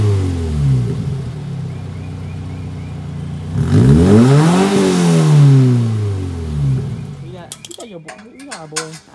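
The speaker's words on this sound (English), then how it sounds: "Before and after exhaust system video, just so y'all can hear how it sounds like" A Toyota GT-86 with its stock exhaust revs up several times close by, the engine rising and falling in pitch over an idle. Mechanical ratcheting clicks are heard near the end.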